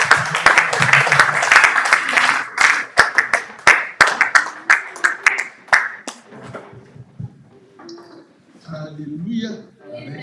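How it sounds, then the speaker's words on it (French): A church congregation bursts into applause and clapping to welcome the man of God, loud and dense at first with sharp individual claps, then thinning out and fading as voices and murmuring take over. "Nous acclamons l'homme de Dieu."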